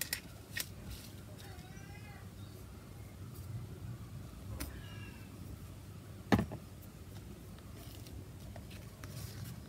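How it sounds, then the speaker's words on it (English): Scissors trim paper for a shabby chic envelope in a few quiet snips, with faint rustling between them and one louder handling sound midway. "I'm just going to trim a little bit of that off."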